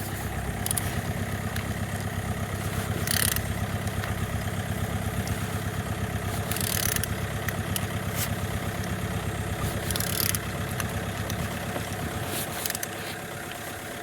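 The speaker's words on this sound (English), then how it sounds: "Turning the engine" Opel Z13DTJ 1.3-litre diesel engine being turned over, giving a steady, continuous low mechanical churn with a rhythmic pulsing texture and a few brief brighter bursts of noise, close and fairly loud throughout.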